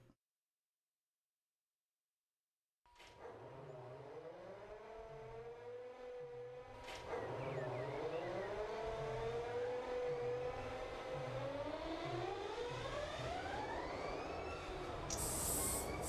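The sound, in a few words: diesel locomotive engines starting up in Run 8 Train Simulator video game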